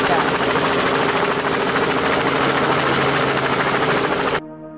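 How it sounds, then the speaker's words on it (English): Helicopter rotor and engine noise sounds continuously and loudly for over four seconds with a steady throbbing drone, then cuts off abruptly. "helicopter."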